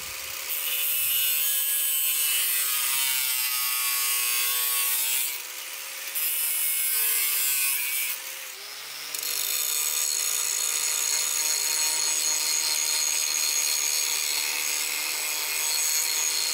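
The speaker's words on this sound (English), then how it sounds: "it's always nice to have a second grinder with a regular grinding disc on there to quickly switch back and forth between cutting and smoothing." An angle grinder with a regular grinding disc cuts and smooths an old diamond saw blade steel, a loud, sustained harsh grinding with brief pauses near six and eight seconds before it resumes steadily.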